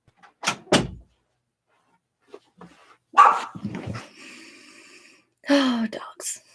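Neighboring dogs bark in loud, sharp bursts, two quick barks up front and then a louder cluster later in the stretch, all heard from inside a home with a short gasp-like voice sound in between.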